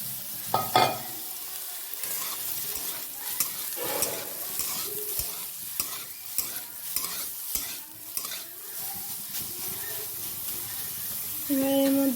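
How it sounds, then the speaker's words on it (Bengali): Boiled soybean chunks hit hot oil with a steady sizzle and frying hiss, broken up by frequent spatula stirs and scrapes against the pan, and a louder clink comes near the end. "তেলের মধ্যে সয়াবিনগুলো দিয়ে দেব।"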